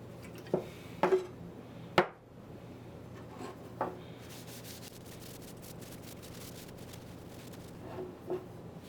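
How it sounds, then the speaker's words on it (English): Intermittent scraping strokes of sandpaper on a wooden machete handle, a few short rubs close by, separated by quiet pauses over a steady low background. "Then a bit of hand sanding after that."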